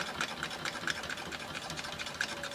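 A sewing machine runs steadily while doing applique stitching on a gnome design, giving a fast, even mechanical whirr with rhythmic needle clatter, close and continuous.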